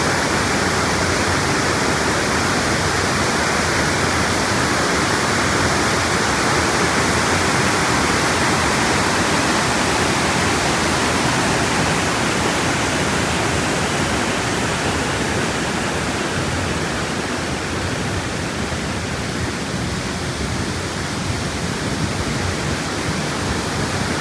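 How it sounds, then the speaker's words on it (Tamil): Loud, steady roar of rushing water at Hogenakkal falls on the Cauvery River, a dense broadband wash that fills the whole stretch without letup and is heard alone. "எப்படி வருது பாருங்க தண்ணி."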